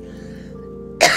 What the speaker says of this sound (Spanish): Me está dando tos.